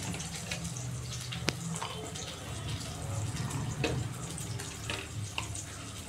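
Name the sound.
tap water running for grinding spice paste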